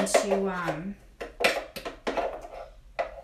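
Chocolate avocado pudding spooned from a blender into cups, giving a few soft scraping clinks of a spoon against the jar, with a voice speaking over the first second.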